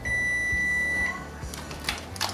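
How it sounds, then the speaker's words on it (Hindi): A kitchen timer alarm goes off after a half-hour setting, a high steady electronic beep held for about a second, then faint clatter and soft rustling nearby. "तो आधे घंटे का मैंने अलार्म लगाया था"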